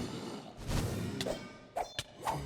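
Explosions during a Lich King boss fight in a modded Minecraft world: several short, soft thuds and whooshing bursts in quick succession, fairly faint and without speech.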